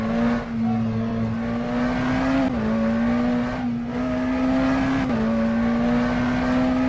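McLaren Senna GTR race car in rFactor 2 accelerating hard from roughly 100 to 200 km/h, its engine note climbing through each gear and dipping briefly at three upshifts, loud, close and steady with no talk.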